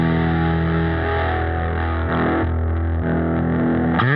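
Electric guitar with distortion running through a Neural DSP Quad Cortex, a dense sustained chord ringing loud and steady with a fresh pick attack near the end, no voices.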